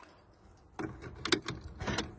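Metallic car keys jangle in a few quick bursts, close by, with a brief bright clink in the middle and quiet between, beside a Mini Cooper 1.6 HDI.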